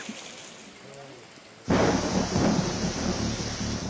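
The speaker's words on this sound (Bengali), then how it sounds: "অঝোরে বৃষ্টি," Heavy monsoon rain in West Bengal bursts in loudly about midway as a dense, steady roar, with low rumbling like thunder beneath; the first part is quieter with faint voices.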